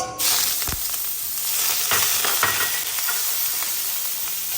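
Onions dropped into smoking-hot oil in a wok over high heat, a loud steady sizzle with scraping stirs and clatter of a utensil, no voices.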